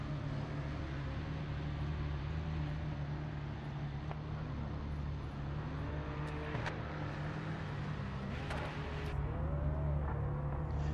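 A race car engine drones steadily in the racing video game Project Motor Racing, with shifting pitch as it revs and changes gear, moderately quiet and continuous throughout with no voices.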